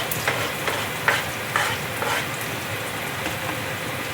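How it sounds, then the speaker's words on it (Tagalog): Garlic fries in a pan with ginger and onion, a close, steady sizzle broken by a few scraping stirs of the spatula, with no voices. "Halo-halo lang hanggang ma-golden brown yung bawang."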